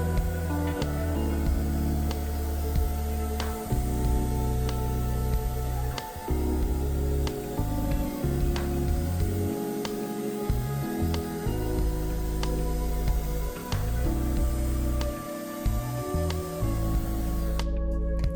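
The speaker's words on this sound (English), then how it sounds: "run mineral spirits through my sprayer and spray it into a cardboard box" A paint sprayer spraying mineral spirits into a cardboard box gives a steady, loud hiss throughout, with faint regular ticking and pulsing from a motor underneath.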